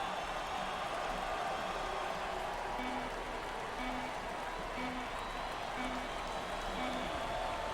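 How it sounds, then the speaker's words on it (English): Fans roar continuously at a college basketball game between Purdue and Virginia in the video game March Madness Legacy, a dense wash of crowd noise and applause with a repeating short tone over it. "And the fans are going wild."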